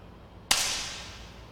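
A single air pistol shot at an airgun shooting championship: one crisp, sharp pop with a short airy tail, fairly close and alone against quiet hall ambience.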